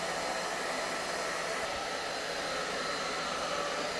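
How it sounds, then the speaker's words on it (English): A hair dryer blows steadily while Silkie chickens are dried after a bath, producing a constant loud, even airflow hiss with no breaks. "these little Silkies seem to actually quite enjoy getting blow dried because it's a little warm and it feels good to them"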